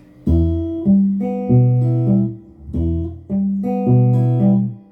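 An acoustic guitar picks an arpeggio across the top three strings, two phrases of ringing, evenly spaced notes that sustain and overlap, played close and clear with no talking.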